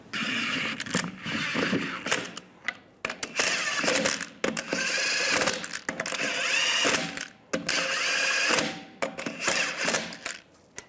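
Lug nuts are run onto a rear wheel of a 2007-2013 Chevrolet Silverado 1500 with a power tool, in repeated loud whirring, ratcheting bursts separated by short pauses, close by and without speech.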